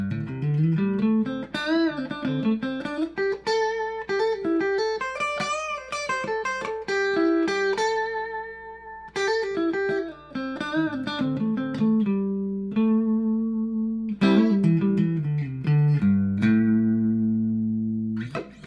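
A single guitar plays a long, fluid run of notes climbing and descending through connected pentatonic scale shapes, picked quickly and continuously with some sustained notes near the end.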